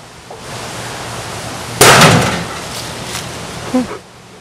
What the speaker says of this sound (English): the bottle blew up a lot, and it popped off the top